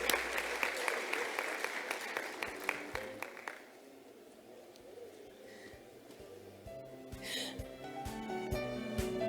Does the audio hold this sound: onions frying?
no